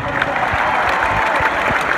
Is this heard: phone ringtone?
no